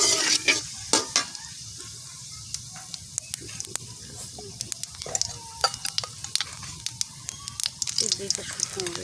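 Whole cumin seeds and cinnamon sizzle in hot oil while cooking rui fish with sweet pumpkin, a quiet, steady fizz dotted with sharp crackles and pops throughout.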